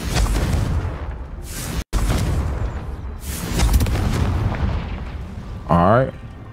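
A Confringo fire spell from the video game Hogwarts Legacy bursts with a loud explosive boom and crackle, followed by a short whooshing flare near the end, heard alongside the game's busy background and other effects.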